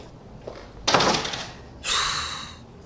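A door shuts in an Urdu-dubbed TV drama scene, giving two broad thudding bangs about a second apart, each fading with a short rush of room noise.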